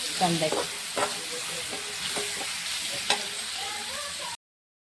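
Onion palya, a simple onion stir-fry, sizzles steadily in a pan while a spoon scrapes and stirs it in repeated strokes, close up with no talking.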